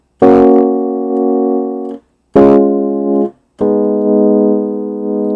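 Three piano chords, each struck cleanly and held for about a second or more, with short silent breaks between them. The playing is slow, loud and close, with no voices.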